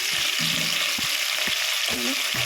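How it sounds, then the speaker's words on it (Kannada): Capsicum sautés in ghee with a bright, continuous frying hiss, punctuated by a few soft stirring scrapes at regular intervals. "ತುಪ್ಪದಲ್ಲೇ ಚೆನ್ನಾಗಿ ಅದು ಗರ್ಗರಿಯಾಗಿ ಆಗಬೇಕು, ಅಲ್ಲಿವರೆಗೂ ಕ್ಯಾಪ್ಸಿಕಮ್ ಬಾಡಿಸ್ಕೊಳ್ಳೋಣ"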